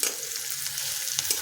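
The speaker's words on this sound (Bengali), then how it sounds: "হাই ফ্লেমে পেঁয়াজটা ভেজে নিলাম 2 মিনিট।" Onions sizzle and fry in a pan over a high flame, giving a steady, close crackling hiss with faint stirring clinks and no talking.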